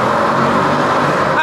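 A Mercedes-AMG's engine runs steadily from inside the cabin, a low, even hum with road noise, and no spikes or revs across the short stretch.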